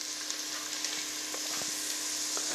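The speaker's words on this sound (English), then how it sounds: "You don't want to brown the garlic too much. Not going to burn it either, so just cook that for about half a minute." Garlic frying gently in a pan, a continuous close sizzle with a few small pops and scrapes, no speech.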